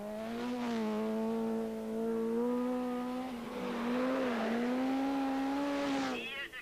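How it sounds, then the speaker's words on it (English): A Ford RS200 Group B rally car on a snowy stage of the 1986 Swedish Rally, its engine droning steadily at high revs with a rising, wavering pitch, close and loud throughout before cutting away near the end. "Kalle Grundl was giving the 2nd RS200 a safe passage and a place in the top 5"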